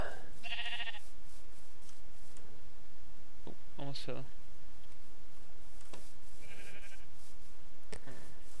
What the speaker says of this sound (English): Full of sheep.